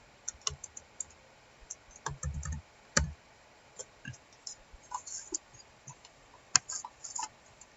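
Keys clicking on a computer keyboard during software work, a scattering of light taps and clicks at varying intervals with a couple of firmer key presses, close and fairly quiet with no talking.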